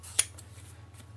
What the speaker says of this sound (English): Okay, so then we'll trim this a little bit.